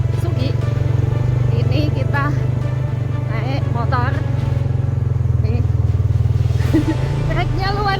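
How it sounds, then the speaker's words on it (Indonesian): A motorcycle carrying a rider and passenger on an off-road trail drones steadily and loudly throughout, its engine note even with slight revving, while people talk over it nearby. "Ini kita naik motor nih"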